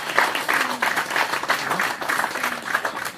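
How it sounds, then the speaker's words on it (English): Lively applause from a rally audience at a PEP rally in Tunapuna. Many hands clap in dense, pulsing bursts that stay loud and close for the whole short stretch, with faint voices mixed in underneath. "I don't think we've ever given him a round of applause before."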